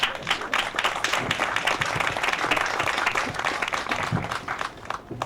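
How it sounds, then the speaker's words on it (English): A crowd claps steadily and loudly for several seconds, a dense, even patter of applause with no talking over it. "I'm going to give you guys an applause"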